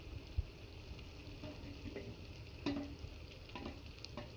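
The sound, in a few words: sautéing shallots and green chillies in a pan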